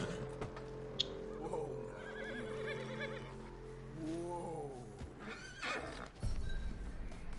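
A horse in Red Dead Redemption 2 neighing and whinnying several times with clip-clopping hooves, fairly close, over a low ambient game background.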